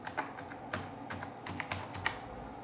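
A computer keyboard clatters as a login password is typed, with a quick, uneven run of close, crisp keystrokes, a few landing harder than the rest, and no talking over it.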